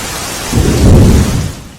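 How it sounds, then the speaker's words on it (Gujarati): Heavy rain over Ahmedabad with a deep roll of thunder swelling up midway and fading, loud and close over the steady hiss of downpour. "હવે વરસાદ પડી રહ્યો છે, ઠંડક વાતાવરણમાં જોવા મળી છે"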